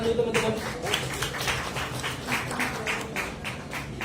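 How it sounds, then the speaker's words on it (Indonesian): Audience clapping breaks out at a film cast reveal, a steady wash of many hands sustained for a few seconds at moderate loudness, with some talk mixed in. "Tepuk tangan dulu teman-teman"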